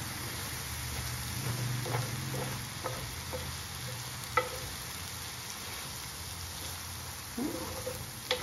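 Bitter gourd mixture stirred in a pan over a low, steady sizzle, with soft scraping and occasional light clinks of the spoon against the metal, fairly quiet and close, no talk.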